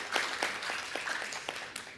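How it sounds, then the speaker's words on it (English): A conference audience at a policy session breaks into applause, a steady wash of many hands clapping throughout, moderately loud and heard from within the room. "please give them a round of applause to express your support"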